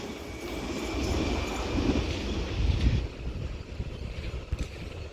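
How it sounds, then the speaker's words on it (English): A London Underground Metropolitan Line S8 stock train runs through on the fast tracks at Dollis Hill, a broad rushing rumble that swells and then fades, with no voices. "Metropolitan Line 96 stock, not 96 stock, S stock, S8 to be precise, just passes through now on the fast tracks"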